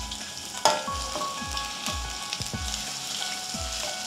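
Cumin and ginger garlic paste sizzling in a pan for palak paneer rice, a low steady fry with a sharp hiss near the start and rhythmic soft scraping thuds throughout, a faint tonal hum in the background, no talking.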